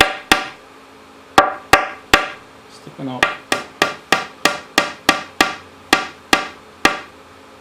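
A hammer strikes metal in sharp, ringing taps while tapping a part into place on a Ford F100 truck: a few spaced hits, then a quick even run of about a dozen, with a brief spoken phrase in between.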